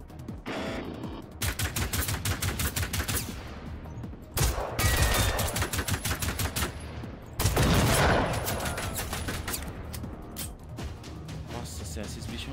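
Long bursts of rapid automatic gunfire from a weapon in Generation Zero rattle in separate volleys with short gaps between them, loud and close, while someone talks over parts of it.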